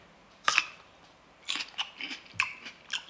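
A firm, crispy green grape is bitten and chewed up close: one sharp crunch, then a cluster of wet, crackling chews a second later.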